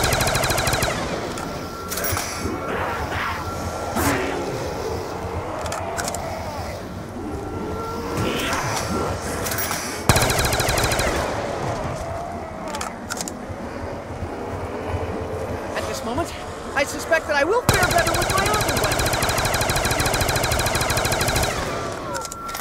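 Gunfire in Black Ops 2 Zombies on the Buried map at round 43: a busy, loud game mix of repeated shots and bursts over a steady wash of background noise, with no voices.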